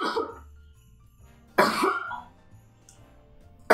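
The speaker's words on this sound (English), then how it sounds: "Yeah, cough some more." Three sharp, close coughs spaced through a quiet stretch, the first two harsh and drawn out, the last cutting in abruptly at the end, with no talking.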